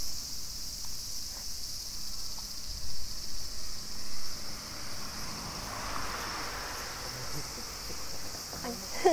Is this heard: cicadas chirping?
yes